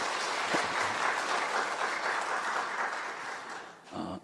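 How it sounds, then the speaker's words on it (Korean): A church congregation claps vigorously, dense steady applause filling the room for about four seconds before tapering off abruptly at the end. "힘차게 박수 한번 드리죠."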